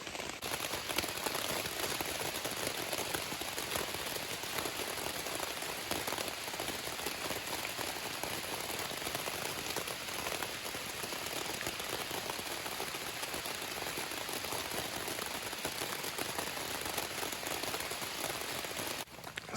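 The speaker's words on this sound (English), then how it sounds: "Ooh, and now it's really picking up." Steady, dense rain drums on a cheap Dollar Tree camping shelter during a stealth camp, a continuous close patter with no let-up and no voices.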